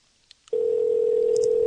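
A telephone line sounds a steady, loud, unbroken dial tone after a couple of faint clicks, on an old rotary telephone as a call is placed, with no talk.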